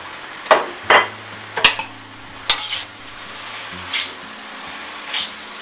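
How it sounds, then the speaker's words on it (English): Singapore rice noodles with julienned egg and green onions are stir-fried in an overloaded wok, a handful of sharp spatula clanks and scrapes against metal spaced over a low background hum. "You have to do your stir fry a little bit slowly"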